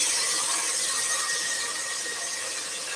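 A scroll saw blade cuts through wood with a steady, close, rasping buzz that holds even and continuous throughout, with no talking.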